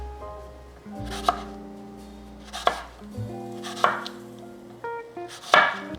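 A knife cuts a Gala apple into thin slices on a board, four distinct crisp cuts spaced about a second apart, each with a short crunch, close and clear with no talking.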